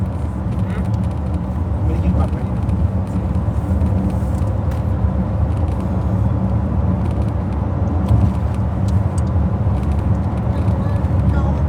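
A car cruises along an expressway with a steady, continuous road and engine rumble, and people chat over it throughout.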